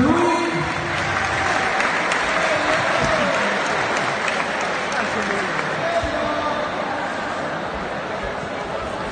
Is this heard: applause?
yes